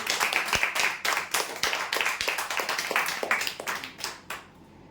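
Dense, steady applause from an audience greeting the first winner of a weekly lucky-draw event, whose prize is a sewing machine. The clapping runs continuously for about five seconds and fades at the end, with no talk over it.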